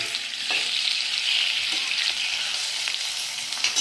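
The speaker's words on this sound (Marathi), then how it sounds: "याला छान थोडा वेळ उजू असं हलवत राहू" Sabudana (tapioca pearls) is stirred in a pan over a low gas flame with crushed peanuts and turmeric, giving a soft continuous sizzle broken by faint scraping stirs, close and steady with no voices.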